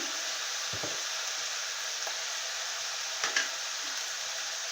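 Onions fry in a pan with a soft, steady sizzle and a few faint scrapes of stirring, close but quiet, with no speech.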